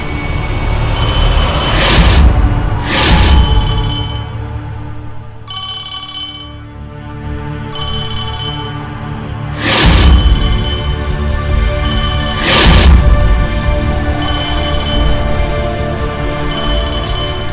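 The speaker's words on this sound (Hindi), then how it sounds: "फोन उठा" A mobile phone rings loudly and repeatedly, with a bright electronic ringtone pattern that pulses in regular bursts for the whole stretch, with no talking over it.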